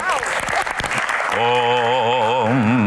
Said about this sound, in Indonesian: Tepuk tangan untuk Mbah Tejo.